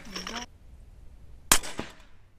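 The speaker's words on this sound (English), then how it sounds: "These are 225 grain Full Metal Jackets, loaded up with 11 grains of Trail Boss. Get you 5 shots downrange." A suppressed 8.6 Blackout bolt-action rifle fires a 225 grain full metal jacket load with a sharp, muffled crack, heard once, followed by a faint echo off mountainsides; a brief burst of noise precedes the shot.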